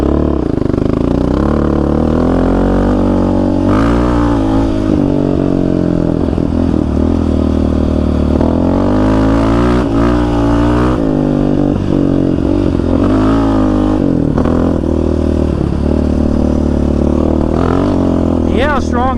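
Yamaha Raptor 700 ATV with an HS Racing tune tearing along Arizona desert washes and trails, its engine loud and close, revving and pulling hard in rising and falling surges throughout, with rattling and clatter from the ride.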